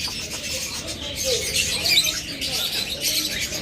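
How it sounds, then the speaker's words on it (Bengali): Several captive doves squawk and chirp continuously, their overlapping high calls forming a dense, close chorus with no speech. "চমৎকার কিছু ঘুঘু পাখি রয়েছে আমাদের কাছে"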